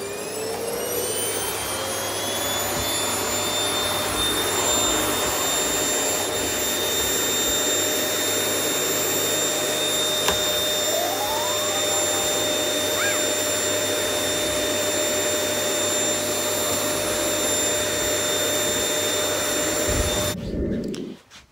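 A carpet cleaner runs steadily for about twenty seconds, a loud, even whirring drone with a high motor whine, then cuts off abruptly near the end.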